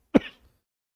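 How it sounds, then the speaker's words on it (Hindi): A single short cough, close and fairly quiet, in an otherwise silent room. "ओह, खांसी बहुत बढ़ रही है।"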